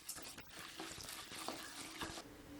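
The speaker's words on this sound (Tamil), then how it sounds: "கடலைப்பருப்பு வறுபடுறது கூடவே 3 டேபிள் ஸ்பூன் உளுந்தம்பருப்பு லேசாக செவந்து வரட்டுங்க" Chana dal and urad dal roast in a pan for ginger chutney, giving a faint dry sizzle with light scraping and stirring strokes, close and continuous without speech.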